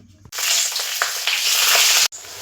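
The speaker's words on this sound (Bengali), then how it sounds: "আমি ভেজে আবার দেখাচ্ছি" Pea-stuffed kachori deep-frying in hot oil, a steady loud sizzle and crackle that holds for about two seconds before cutting off abruptly.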